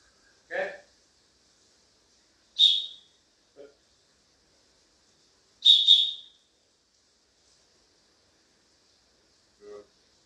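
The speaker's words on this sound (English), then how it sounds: "Two whistles means come and take it. One whistle, go and sit down." A dog training whistle sounds for a puppy in a quiet room, a few short, sharp piercing blasts, two of them grouped close together, separated by silence with faint brief voice sounds.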